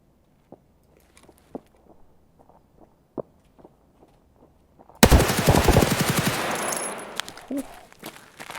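A long, loud burst of RPK-16 machine gun fire in Escape From Tarkov erupts after several seconds of sparse, quiet footsteps and small knocks, the rapid shots blurring into a dense, sustained roar that fades near the end.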